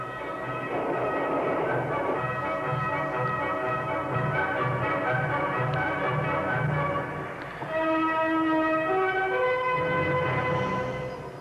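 A train rolls in with a loud, steady rumble and rhythmic wheel clatter, then a long horn sounds near the end. The horn is a mix of bright tones and stays close and prominent.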